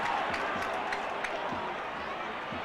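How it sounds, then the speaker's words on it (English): Big rugby league crowd at Odsal for Bradford vs Wigan in 2004, a loud continuous roar of massed voices filling the stadium, with a commentator talking over it. "Big crowd here at Odsall"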